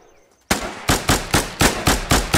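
A burst of machine gun fire in a war video game: a sharp opening shot, then seven more evenly spaced loud bangs in a steady rhythm, close and alone with no talk.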